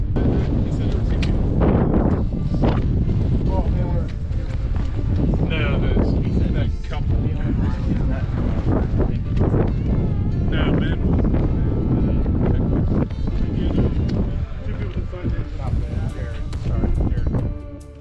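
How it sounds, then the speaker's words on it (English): Strong wind on a November mountain hike in the Grayson Highlands, roaring and buffeting the microphone in loud, continuous gusts throughout, with faint indistinct voices beneath. "It's definitely getting windier."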